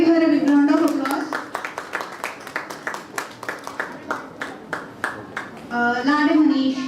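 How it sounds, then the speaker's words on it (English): Sharp, rhythmic hand claps from an audience at a student startup pitch event, fairly close and steady for about five seconds, with a voice speaking just before and after. "Give her a big round of applause"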